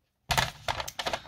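Paper for a 30x30 scrapbook page is cut with a trimmer, giving three short crisp slicing strokes close by after a silent start.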